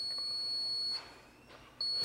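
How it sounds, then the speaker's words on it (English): A high electronic beep from the lift system of a Chrysler Town and Country with a VMI Northstar conversion sounds steadily, cuts off, then returns after a short pause, clear and close with no talking. "You push and hold this top button till you hear a beep,"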